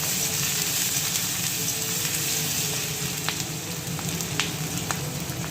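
Bay leaf, two fresh green chillies, panch phoron and chopped ginger frying in hot oil give a steady, close sizzle with a few sharp pops and crackles, and no one speaks.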